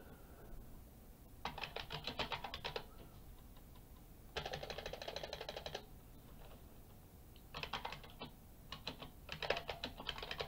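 Typing on a computer keyboard, quiet close clicking in several quick bursts separated by short pauses, with no voices.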